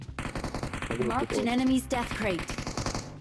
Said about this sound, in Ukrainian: Ну ти там стріляєш.